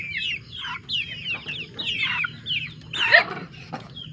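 Several chickens clucking and squawking in short repeated bursts close by, with a busy farmyard murmur underneath and no talking.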